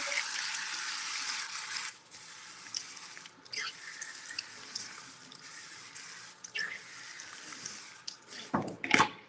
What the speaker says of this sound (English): So we'll rinse that off real quick.